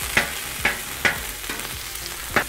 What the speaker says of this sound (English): So we are just going to put ground beef and get this cooked up.